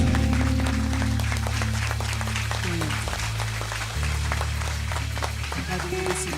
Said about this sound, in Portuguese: aplauda o Senhor o mais forte que você puder